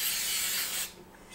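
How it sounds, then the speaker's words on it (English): A quick burst of non-stick cooking spray hissing onto a cake pan, a short bright spray that cuts off sharply, followed by faint rustling. "prepare the pan by spraying them with some non-stick cooking spray"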